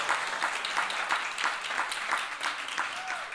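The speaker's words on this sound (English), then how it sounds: "let's give a big applause because they can hear you" An audience at a Passion Talks event in a virtual reality church setting applauds, a steady wash of many hands clapping at moderate level, sounding somewhat distant and blended, with faint voices mixed in.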